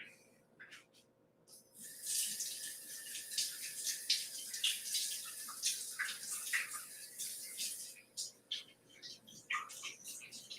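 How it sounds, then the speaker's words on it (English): Hands are rinsed under a running kitchen tap during bread making. A faint, close splashing stream starts after a brief pause, its level shifting as the hands move through the water, with no talk. "let me give my hands a quick rinse"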